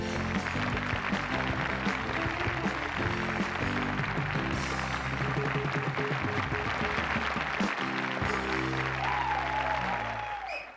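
A television show studio audience gives a round of applause, steady loud clapping running over band music with a held rhythmic beat, fading slightly at the end.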